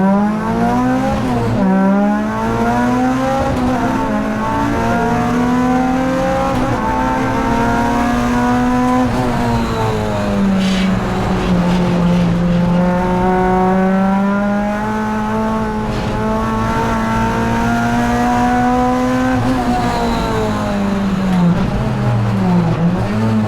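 Racing Hondas cars start the season's final race at Snetterton, engines droning loud and continuous as they accelerate, the pitch rising and falling through gear changes, with tire squeal mixed in.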